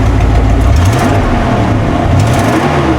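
A 1989 Ford F250 truck running without a muffler, its engine a loud, raw, continuous rumble with uneven revving swells close by, alone without talk.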